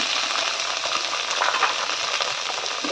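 Shallots sizzle steadily in a hot pan for onion sambar, a continuous crackling fry with faint stirring that stays close and even throughout, with no talking.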